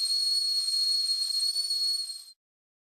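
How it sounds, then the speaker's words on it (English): A video game kettle whistles shrilly and steadily for about two seconds, then cuts off abruptly into silence. "The kettle is whistling!"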